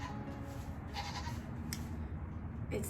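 Stressed baby goats in a barn give a faint bleat or two over a steady low background rumble.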